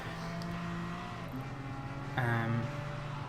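A race car engine in the driving game Gran Turismo Sport, a steady droning whine that steps up in pitch as the car revs harder, heard close with no talk.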